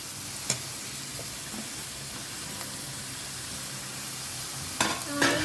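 Tomatoes going into a pan of frying onions and curry leaves while cooking Bhindi ki Bhaji, with a steady soft sizzle and hiss, a couple of sharp clatters of the spoon, and a louder burst of sizzling and stirring near the end.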